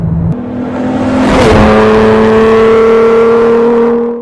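A car fitted with a Borla touring exhaust rumbles close by with a subdued growl, its steady engine drone rising slightly as it revs, then holding for several seconds.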